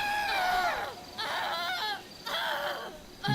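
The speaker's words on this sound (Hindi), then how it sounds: "ज़ॉम्बीज़ की इतनी ज़्यादा चिल्लाने की आवाज़ आ रही है" Zombies in the video game GTA 5 letting out three long, loud, wailing screams one after another, each rising and then falling in pitch, with no talk over them.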